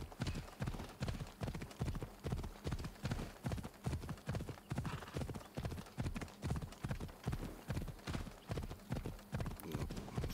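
Steady, rhythmic clip-clop of a galloping horse's hooves on a road in Assassin's Creed Odyssey, close and continuous with a regular beat throughout, no talking over it.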